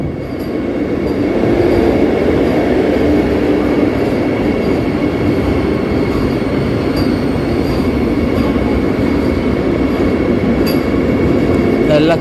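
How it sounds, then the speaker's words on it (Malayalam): A Vande Bharat Express train passing at a station, a loud continuous roar of wheels and carriages with a faint metallic squeal, close by and sustained the whole time. "ഇവിടെ ഒരു വന്ദേ ഭാരത് എക്സ്പ്രസ് വരുന്നുണ്ട്"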